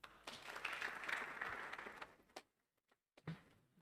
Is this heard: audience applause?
yes